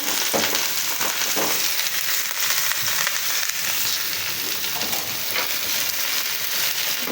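Bitter gourd and potato pieces fry in hot oil with onion and green chili, a steady loud sizzle with a few stirring scrapes and no talk.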